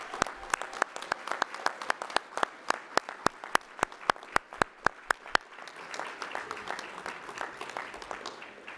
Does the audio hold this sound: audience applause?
yes